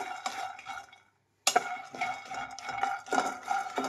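Peanuts being dry-roasted in a pan over a medium flame rattle and scrape under a stirring spoon in rhythmic bursts, with a brief silent pause before the stirring resumes.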